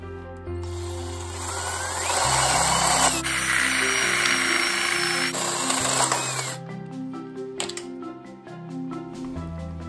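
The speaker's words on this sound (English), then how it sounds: "Then it was time to actually drill into the rock." A power drill whines loudly at close range, its pitch shifting as it bites and grinds into rock, then slows and sputters to a stop.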